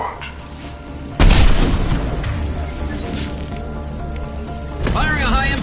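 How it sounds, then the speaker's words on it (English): A high-impact gunshot from the video game Mass Effect 2 fires as one loud, sharp boom that rings out and decays over several seconds. A voice speaks near the end. "Firing a high-impact shot!"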